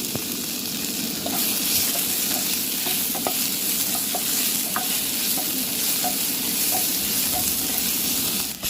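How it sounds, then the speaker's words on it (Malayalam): Chopped tomato for kothu dosa fries in a pan with a loud continuous sizzle, while regular scraping strokes of the utensil tick through it at a steady rhythm, close up and with no voices. "നമ്മൾ നേരത്തെ കട്ട് ചെയ്ത് വെച്ച തക്കാളി കൂടെ ഇതിലേക്ക് ചേർത്ത് കൊടുക്കാം."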